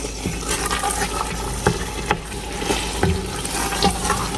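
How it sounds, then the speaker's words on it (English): Corned beef being stirred into Ghanaian jollof rice in a pot, a soft wet churning and scraping with a few spoon knocks over a steady bubbling hiss, close, without speech. "I'm going to put the corned beef in there. And I'll stir it."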